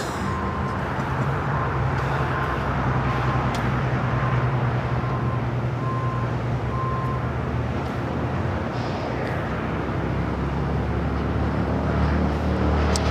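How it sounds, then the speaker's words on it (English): A Japan Airlines 787-9 Dreamliner heading down to runway 25 right at LAX gives a steady, broad jet roar that holds at one level throughout, heard from a distance with no talk. "We do have that Japan Dreamliner heading down to 25 right."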